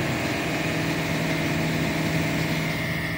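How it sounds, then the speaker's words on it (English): Diesel engine of a 2014 Ford F450 Super Duty Powerstroke running at raised RPM during an exhaust filter regeneration, a steady close drone with a constant low hum and no talk. "it just automatically pumps up the RPMs and regens it"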